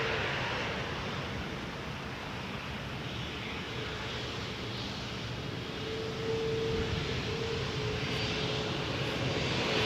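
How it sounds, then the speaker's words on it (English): A Cathay Pacific Airbus A350-1000 coming in to land at Toronto Pearson roars as a continuous broadband jet engine rush, steady and fairly loud, swelling slightly near the end with no voices. "Cathay 826, A350 1000 is coming in."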